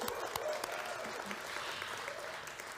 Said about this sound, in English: A round of applause for Victoria Yard.